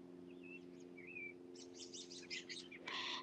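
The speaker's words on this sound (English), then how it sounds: "I love when I can hear the birds chirping" Birds chirp faintly in short, scattered tweets and trills over a low steady hum, with a brighter burst of calls near the end.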